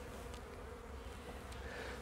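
Honeybee colony buzzing steadily at an open hive during beekeeping work, a continuous low drone with a few brief louder passes of individual bees, no talk.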